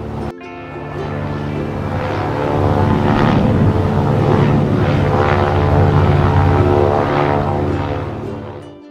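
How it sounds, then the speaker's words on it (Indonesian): A propeller-driven zeppelin airship drones steadily overhead, its engine hum swelling louder through the middle before easing off. "Z is for Zeppelin,"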